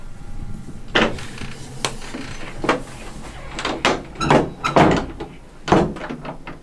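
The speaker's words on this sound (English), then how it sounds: "I'm closing the door now." Door closing during a haunted doll park visit, a series of close knocks, thuds and rattling mechanical bumps spread unevenly over several seconds.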